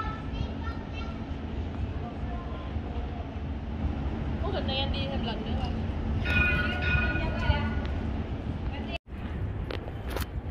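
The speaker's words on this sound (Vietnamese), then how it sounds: "Xe này cũng rất là êm, chạy cũng giống như xe lửa vậy đó" A tram rolls through Sydney's city centre with a smooth, low rumble of wheels on rail, a faint squeal rising midway, while children's voices and chatter carry in the background.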